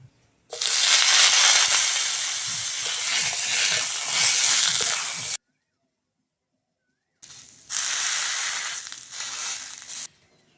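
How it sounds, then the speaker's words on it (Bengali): Eggplant slices frying in hot oil for a mashed vegetable dish, a loud, steady broadband sizzle that runs for several seconds, drops out briefly to silence, then resumes just as loud with no voices. "এবার বেগুনগুলো ভেজে নেব"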